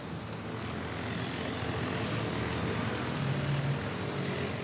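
Cebu Pacific Airbus A330neo airliner, a brand-new jet at Manila Airport, giving a steady, loud broadband engine roar that holds throughout with no voices.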